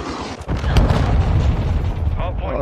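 A heavy cruise missile explosion lands in an online shooter match, a sudden deep boom that rumbles on for about two seconds, loud and close, with voices talking over it.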